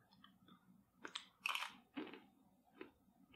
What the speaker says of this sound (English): as you start chewing on the berries towards the end